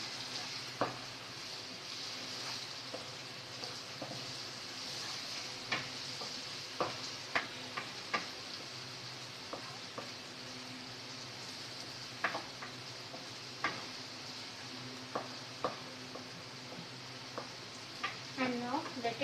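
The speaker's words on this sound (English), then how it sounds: "And stir it nicely." Baingan ka bharta with masalas is stirred in a pan, a soft steady sizzle of frying under repeated sharp scrapes and taps of the spoon against the pan at irregular intervals.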